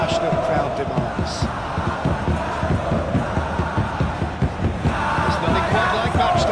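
Dense stadium crowd noise from the PES 2026 football video game at an evening Indonesia vs Vietnam match, a steady loud roar with rhythmic chanting and clapping throughout.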